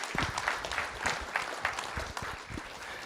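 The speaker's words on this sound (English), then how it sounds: "Let's give Coach Reedy a round of applause" A school board meeting audience applauds a regional high school Coach of the Year, with steady clapping from a room of people running for a few seconds and no talking over it.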